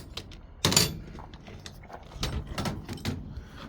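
A metric wrench, 12 or 13 mm, working a wheel nut on a KTM motorcycle during a tire repair: a sharp metallic clank up close, then a series of softer scraping, clicking turns.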